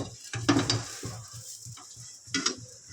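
White cooking oil heats in a hot wok with a steady, close sizzling hiss, broken by repeated metallic clatters and stirring scrapes against the pan.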